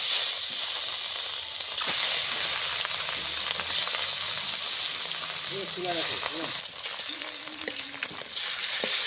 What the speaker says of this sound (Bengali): কড়াইতে দিয়ে দিচ্ছি সর্ষের তেল, গরম হয়ে গেছে। হলুদ নুন মেখে রাখা মাছ দিয়ে দেবো।